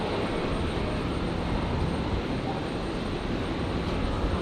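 A Jetstar airliner in Pride livery touching down on runway 01 right at Brisbane International, heard as a steady broad roar of engine and air noise at moderate distance, continuous throughout without pause.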